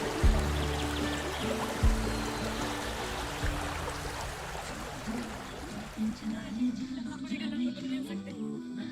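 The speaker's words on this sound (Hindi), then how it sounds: "एक छोटा सा ब्रिज, नीचे नदी का शोर और दोनों तरफ जंगल।" A river rushes beneath a small bridge on a forested mountain trek near Kareri Lake in Himachal Pradesh, giving a steady broadband wash of flowing water with low tonal hum and occasional thumps, continuous and fairly close throughout.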